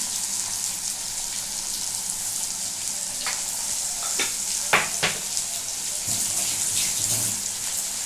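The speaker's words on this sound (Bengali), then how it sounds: "তো এখন আমার কাজ হচ্ছে পেঁয়াজটাকে খুব ভালো করে ভাজা" Onion fries in a pan with salt and sugar for a Bengali vegetarian curry, making a steady, moderate sizzle with a few sharp stirring clicks and scrapes of the spatula.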